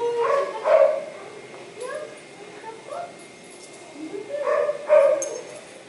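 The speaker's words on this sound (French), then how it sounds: "ton chien entend un chien japper" A small dog yaps in short bursts, a couple of quick clusters of high barks separated by pauses, fairly close, with quiet background noise between.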